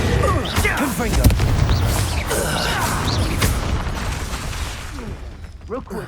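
Confringo blasting-curse explosions in the Hogwarts Legacy video game, loud booming blasts and crackling impacts in quick succession amid ongoing spell combat, with a voice calling out spells.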